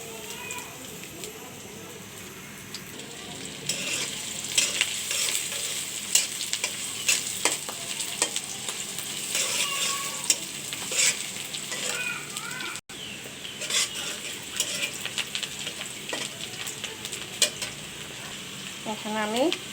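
Onion and chili frying in mustard oil for a shrimp and greens dish, a constant crackling sizzle with intermittent stirring scrapes, close up, with a voice speaking over parts of it.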